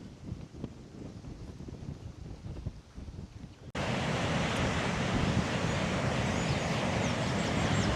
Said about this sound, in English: Do you guys hear the rustling of the trees and the waves?